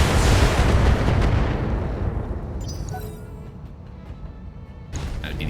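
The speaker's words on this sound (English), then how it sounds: "Firing a full salvo." A full weapon salvo from a BattleTech mech erupts in a loud, heavy blast that rumbles and slowly decays, followed by fainter mechanical clanks and a second burst near the end.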